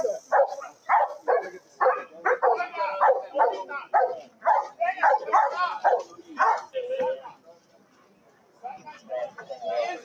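A police dog barks and yips in rapid bursts during a tense arrest, loud and close, mixed with shouting voices and whimpering before a brief lull.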